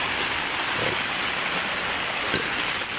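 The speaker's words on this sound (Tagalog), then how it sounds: "ayaw pa rin tumigil ng ulan" Steady, dense rainfall pours down continuously, a broad hissing wash with a few faint drips and knocks standing out, with no voices.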